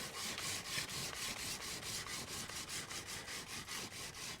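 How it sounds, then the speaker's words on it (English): Sandpaper scrubbing the steel blade of a rusted Bowie knife during restoration, heard as steady rhythmic back-and-forth rasping strokes, about four per second, close and fairly quiet. "I'll be doing more sanding like this"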